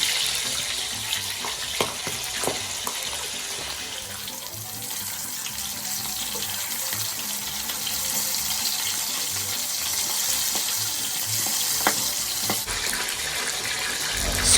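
A loud, continuous hiss of chicken sizzling in hot oil, steady throughout with a few small pops.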